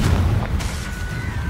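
A Confringo fire-blast spell detonates in Hogwarts Legacy with a short, heavy boom and crackling burst, loud and close, followed by a faint rising whine.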